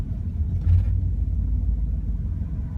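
A 1959 Cadillac Coupe cruising along a busy road, its engine a steady low rumble with road noise, one slightly louder swell near the start, no voices.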